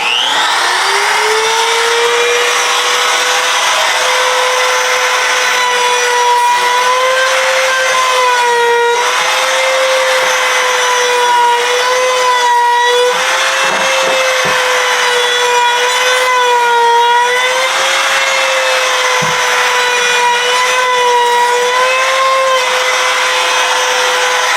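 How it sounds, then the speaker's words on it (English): A wood router shapes the edge of a wooden handle piece for a baby photoshoot prop, a loud continuous whining drone with a steady pitch that wavers slightly as the cut proceeds, running uninterrupted for over twenty seconds with no talk. "we're going to run the router on that"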